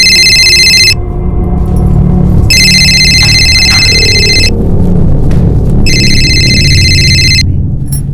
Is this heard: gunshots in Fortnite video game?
no